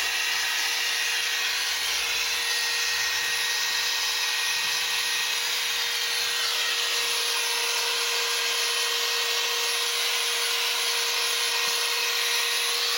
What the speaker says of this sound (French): Il y a un atelier grattage avec des burins et un atelier ponçage des surfaces.